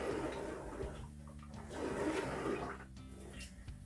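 99% isopropyl alcohol is poured out in a quiet, close splashing and trickling wash that swells and eases in a couple of surges.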